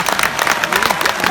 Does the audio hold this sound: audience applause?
yes